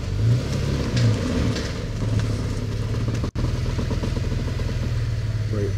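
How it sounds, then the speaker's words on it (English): A 2017 Nissan Maxima engine runs steadily at a low hum, with a brief revving swell near the start and another near one second, continuous and close apart from a momentary drop-out partway through. "As you can see, it runs and drives."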